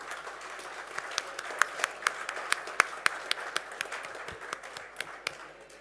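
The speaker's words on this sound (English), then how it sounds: "Can we have a round of applause for Shri Gopalakrishnan Acharatha?" Applause at a Qatar music and dance festival marking India's 75th Independence anniversary, sparse and fairly close, with distinct individual claps at an uneven rhythm over a low background.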